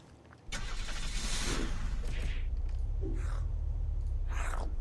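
A car engine in the video game Unturned starts up and runs with a steady low rumble after a brief quiet opening, with faint voices over it.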